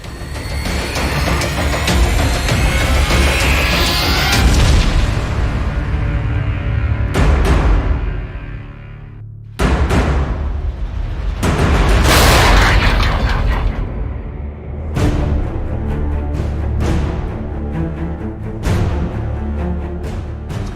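Artillery gun firing, loud repeated booms with long rumbling tails dominating the sound, several heavy blasts in succession with little pause between them.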